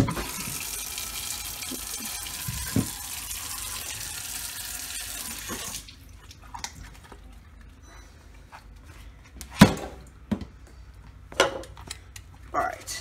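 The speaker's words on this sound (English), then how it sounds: "let's run some more hot water" Hot water runs steadily from a tap as a broadband rush for several seconds, then stops, followed by scattered clunks and clatters in a quieter room.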